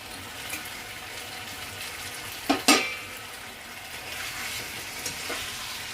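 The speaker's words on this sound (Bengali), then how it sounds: "এর মধ্যে আমি এঁচোড়টাকে দিয়ে দিচ্ছি। এবার ভালো করে এটা কষাবো।" Young jackfruit and potatoes sauté in a hot pan, a steady moderate sizzle broken by two sharp spatula scrapes midway and a few lighter stirs later, heard close with no talking.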